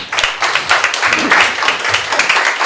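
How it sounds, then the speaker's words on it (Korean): Audience applause welcoming a speaker at a Korean church lecture: a close, loud burst of many hands clapping in a dense, slightly uneven rhythm that carries on for the whole few seconds, with no talking over it. "박수로 맞이하도록 하겠습니다."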